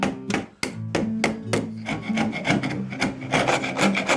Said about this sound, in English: now I'm going to try and removing all the old glue and wood that